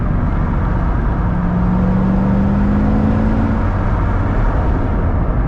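Chevrolet Corvette C6 Z06, a wrecked car on its first drive, heard from inside as it pulls and revs: a loud, steady engine drone with a tone that slowly climbs, continuous and without speech.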